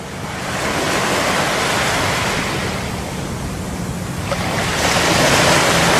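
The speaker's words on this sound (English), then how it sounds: "This is at Plum Beach, Brooklyn." Surf at Plum Beach, Brooklyn, a broad continuous wash of breaking waves mixed with wind buffeting the microphone, loud and close, swelling again toward the end.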